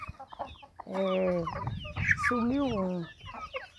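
Hens in a backyard chicken coop give loud, drawn-out clucks and squawks close by, with a short bit of speech in Portuguese.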